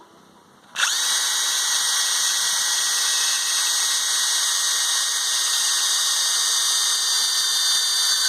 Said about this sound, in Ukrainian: Сверлю цю чудову кубку цегли. Друга швидкість, сверло мультиконстракт.